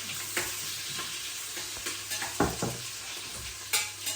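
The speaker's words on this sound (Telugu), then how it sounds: "సో స్పైసెస్ అన్నీ వేసుకొని మనం బాగా ఫ్రై చేసుకోవాలి." Spices sizzle and fry in a pan while being stirred for a country chicken curry, with steady hiss and several scraping stir strokes of a utensil against the pan close by, no talking.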